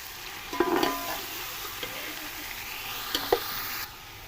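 Chicken frying in a pot for chicken pulao, a steady close sizzle with intermittent scraping stirs of a utensil against the pot, no voices.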